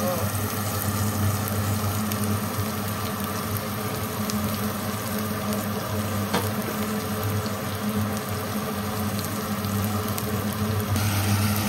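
Meat fries with onion and garlic in a pan, a dense continuous sizzle with faint bubbling, close and steady throughout, under low background hum.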